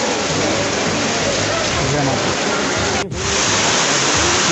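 Heavy rain pours down hard and close during a July pilgrimage trek near the Shiv Khori and Vaishno Devi shrines, a loud dense wash of drops hitting surfaces that barely breaks for a moment before resuming.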